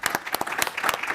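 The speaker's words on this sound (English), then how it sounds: "Please a big applause for our colleagues here in the panel." Applause from a conference audience for a panel at a COP26 capacity-building event, a short burst of dense clapping with sharp individual claps standing out, fairly close and steady throughout.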